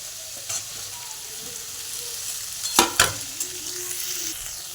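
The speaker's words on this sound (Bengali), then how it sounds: "সব কিছু আমি হালকা করে ভেজে নিয়েছি বেগুনটাও হালকা ভাজা হয়ে গেছে" Eggplant and other vegetables fry in a pan, a soft steady sizzle broken by a few sharp scraping stirs near the middle, heard alone at close range.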